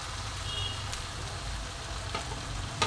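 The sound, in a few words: spices and onions frying in oil (Bengali mutton curry)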